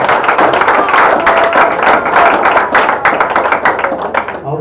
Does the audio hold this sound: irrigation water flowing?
no